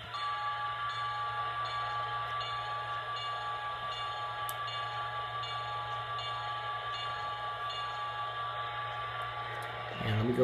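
A BLI T1 2-10-4 model steam locomotive's QSI sound decoder plays its bell, rapid repeated metallic ringing over a steady electronic hum of chuffing and motor noise, moderately loud throughout.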